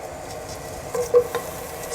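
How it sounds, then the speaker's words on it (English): Sliced onions sautéing in hot coconut oil, a steady soft sizzle with a brief stir of a utensil partway through, close and without talk. "Saute the onions."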